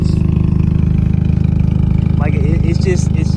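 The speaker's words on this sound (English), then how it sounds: "y'all can just hear that idle. It's lopey." Hyundai Genesis Coupe 2.0T with a straight-pipe exhaust idles steadily with a deep, lopey rumble, loud and close throughout, while a voice speaks briefly over it near the end.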